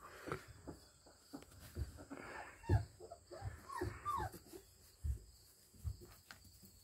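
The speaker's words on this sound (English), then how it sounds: "these are happy puppies" Young puppies, old enough to have teeth and playfully biting, give a few small, faint squeaks and whimpering yips at irregular intervals among soft scuffling noises.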